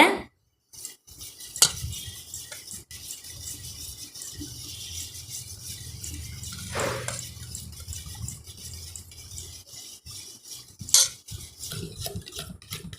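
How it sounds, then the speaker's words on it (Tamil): Semolina and milk being beaten with egg in a bowl for a stovetop rava pudding, heard as a continuous low mixing churn with scattered clinks of utensil against the bowl and a brief louder scrape midway, with no talking. "நாம் கொஞ்சம் கொஞ்சமாக முட்டையோடு சேர்த்து நல்லா அடிச்சுக்கலாங்க"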